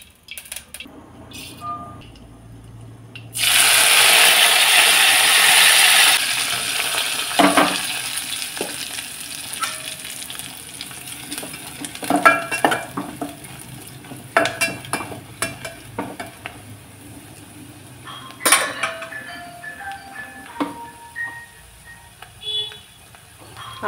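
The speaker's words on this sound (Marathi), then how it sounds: "पटकन भाजी फोडणी टाकते अगोदर" A brinjal vegetable dish gets its spice tempering in a pan on a home stove. A loud, steady sizzle bursts up for a few seconds, then fades into quieter frying crackle with scattered clinks of stirring.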